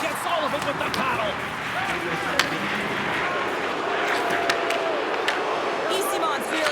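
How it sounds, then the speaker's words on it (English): A home crowd in the hockey video game NHL 26 keeps up a steady, loud arena roar of jeering and noise, with scattered sharp whistles and calls cutting through throughout. "Easymont's really hearing it from the home crowd right now"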